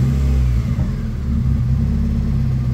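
A Mazda Miata engine held just above idle with light throttle, a steady mid-pitched drone that dips briefly and then settles back, close and loud with no talk.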